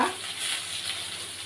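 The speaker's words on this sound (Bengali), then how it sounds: "আমি এই মাছ ভাজছি" Kan fish frying in a pan, a steady close sizzle with soft crackling and bursts of spitting oil, no voices.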